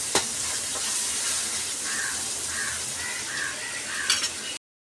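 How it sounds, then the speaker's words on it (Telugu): Onions fry in a pan for an egg and drumstick curry, with a steady, close sizzle that runs throughout and a few sharp clinks near the start and end. "ఎర్రగడ్డలు బాగా వేగాక"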